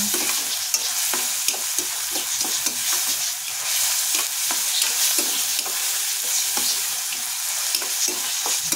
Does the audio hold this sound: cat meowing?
no